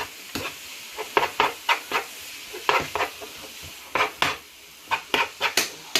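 Meat for chilli stirred in a pot as it browns, with irregular scraping strokes of a spoon against the pan over a faint sizzle, close by and without talk.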